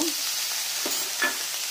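Small diced potatoes fry in oil in a wok, a steady close sizzle broken by a few spatula scrapes and stirring knocks, with no talking.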